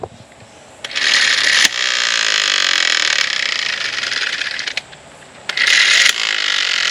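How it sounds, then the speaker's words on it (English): An electric jack on a truck whirs loudly and mechanically in two sustained runs, the first lasting several seconds and the second starting shortly after a brief pause, with gear-like grinding close up. "that jack was so much easier than manual"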